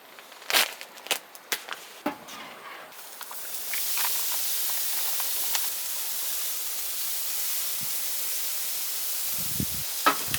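Marinated beef tips sizzle steadily on a cooking surface at a summer island camp, a broad continuous hiss building after a few seconds of clatter and light knocks, staying close and fairly loud to the end.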